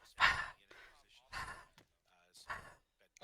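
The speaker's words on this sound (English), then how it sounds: "It sounds like somebody panting real hard." In a military tactical video game, a character pants hard from exhausted stamina, with three heavy, loud breaths spaced about a second apart, close and otherwise quiet.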